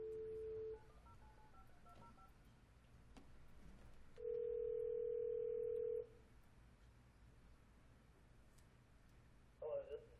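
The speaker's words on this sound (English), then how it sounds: "Well, I can hit redial." Telephone redial at a city council meeting: a series of stepped keypad tones followed by a long steady dial tone, then a short warble as the call connects, with faint room noise and quiet voices beneath.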